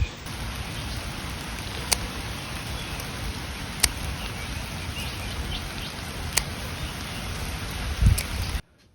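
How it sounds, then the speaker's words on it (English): Steady rain falls outdoors in woodland, a dense even hiss of drops with a few sharp louder ticks standing out, no talking. "It's raining."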